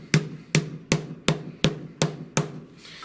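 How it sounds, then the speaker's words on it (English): Seven sharp hammer strikes rolling the edge of a license plate on a small anvil, at an even, steady pace, close and distinct, each ringing briefly before the next blow. "I have a little anvil here, and what you can do is just take hammer"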